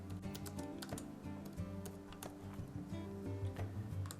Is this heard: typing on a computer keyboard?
yes